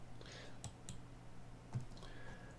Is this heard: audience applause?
no